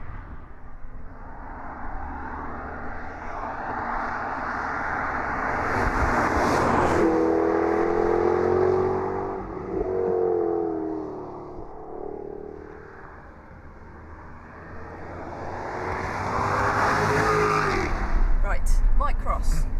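Jaguar XKR-S Convertible driving on the road, engine drone rising and falling with acceleration and wind rush, under talk from the people in the car.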